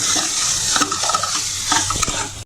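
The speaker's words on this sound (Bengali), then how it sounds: "আলুটাকে একটুখানি ফ্রাই করে নেব, মটরটাকেও ফ্রাই করে নেব" Potatoes and peas are stir-fried together in a pan, with a loud, close sizzle and irregular spatula scrapes and knocks as the pieces are tossed, no voices.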